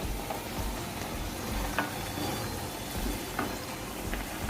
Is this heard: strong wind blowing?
no